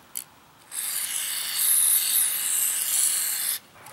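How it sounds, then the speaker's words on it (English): Carburetor cleaner from an aerosol can hisses close by, spraying continuously for about three seconds after a brief click, then cuts off abruptly, as it cleans a Briggs & Stratton 725EXi mower carburetor. "I need a carb spray. Alright, cover your eyes. I gotta spray all this out."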